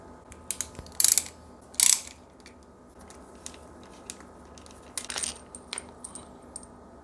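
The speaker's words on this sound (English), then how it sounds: "we're going to remove this plastic guard here. I think it's just 2 5mm Allen key bolts." Hex bolts being loosened with a 5mm Allen key from the plastic fork guard of a Yamaha Tenere 700: a few close metallic clicks and ratcheting scrapes in short, scattered bursts over a quiet background.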